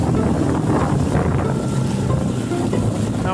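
A new skiff motors into waves on open water, with a steady, loud engine and hull rumble mixed with heavy wind buffeting on the microphone throughout.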